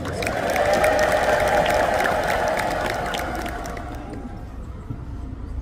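A congregation in an Ethiopian Orthodox Tewahedo church ululates together, a sustained, high, trilling chorus filling the space before gradually fading toward the end.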